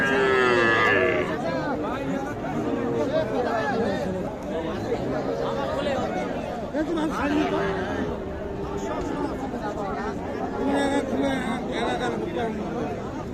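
Small bulls and heifer calves moo repeatedly amid a busy crowd of chattering voices, a loud, crowded cattle market scene.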